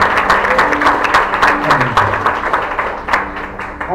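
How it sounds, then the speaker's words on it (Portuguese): A church congregation claps in praise, a fairly loud, busy patter of hands heard together with voices and sustained musical tones, probably an organ or keyboard playing under the applause. "Vamos aplaudir nosso Deus."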